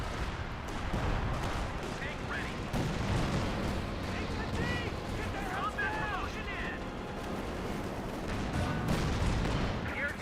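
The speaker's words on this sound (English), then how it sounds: "Looks like there's 2 barrages being active there." A Sexton self-propelled artillery barrage in Company of Heroes 2 pounds steadily, with repeated booming impacts and crackling gunfire across a dense battle soundscape, while voices talk over it throughout.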